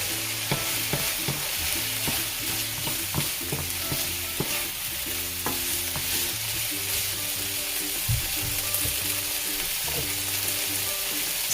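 Pancit canton noodle ingredients sizzle steadily in a hot pan while a utensil stirs and scrapes through them, a constant frying hiss throughout.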